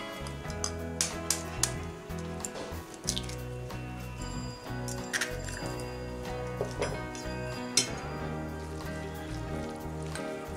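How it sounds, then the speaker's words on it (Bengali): Cauliflower pakora batter mixed by hand with an egg, giving wet squelching and light slapping sounds in a steady irregular rhythm, close up, with no talking. "ডিমের সাথে ভালো করে এটাকে মিশিয়ে নিলাম।"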